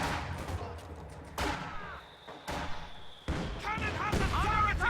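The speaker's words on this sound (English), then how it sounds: "heavy mortar pounding away at the battle group headquarters" Heavy mortar rounds in a strategy video game land as several deep booming impacts spaced a second or so apart, amid other battle noise and a commentator's voice.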